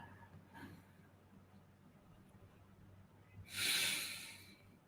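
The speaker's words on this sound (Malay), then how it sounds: "Siap tarik nafas." A deep breath drawn during a guided breathing exercise, a single loud airy inhale that swells near the end and then fades, with faint quiet room noise before it.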